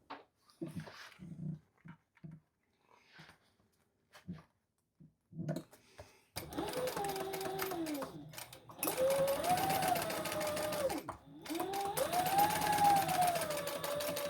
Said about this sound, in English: let's sew this together at the seam allowance in the pattern